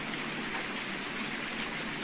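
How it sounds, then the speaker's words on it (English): Steady rain falls on a farm map in Farming Simulator 19, an even hiss of rainfall with no breaks or voices. "rain there is on this map."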